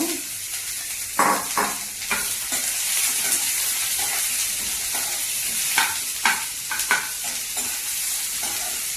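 Onions fry in oil in a pan for a South Indian egg curry, giving a steady sizzle with intermittent scraping stirs and spoon clinks against the pan, close and clear with no talking.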